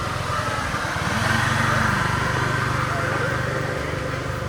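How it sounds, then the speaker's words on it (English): Motorbikes ride along a seaside esplanade pathway in Sanur, a steady, fairly close engine drone with a buzzing, pulsing low rumble that holds for several seconds, with a faint murmur of voices over it. "motorbikes. On the esplanade."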